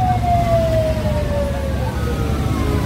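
A fire engine siren at a house fire on Jalan Pangeran Antasari in Samarinda, a steady wailing tone gliding slowly downward over a low engine rumble, fairly close and continuous.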